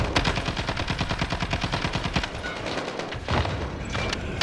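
Rapid automatic gunfire from the Call of Duty: Modern Warfare (2019) video game, dense rattling bursts running almost the whole time with a brief gap, loud and close.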